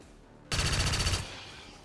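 Auto pistol firing in XCOM 2: a single rapid burst of shots lasting under a second, loud and close, followed by a fading tail, with no voices.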